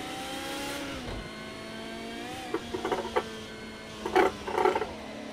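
A race car engine in the racing game Project Cars 2 drones steadily, then rises and falls as it revs, with a few sharper bursts of engine roar toward the end.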